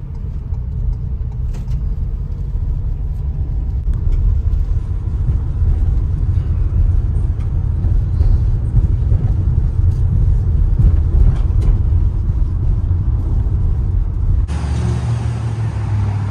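A U-Haul 9-foot cargo van pulls away, its engine rumbling steadily at close range with low road noise throughout before the sound shifts near the end.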